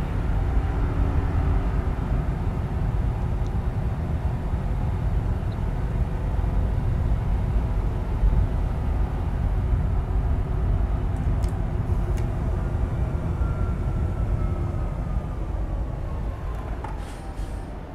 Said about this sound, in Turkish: Bak buralarda hava gürültüsü falan çok iyi.